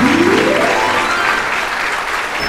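A seated audience at a devotional stage quiz event applauds, with steady, dense clapping throughout, loud and close.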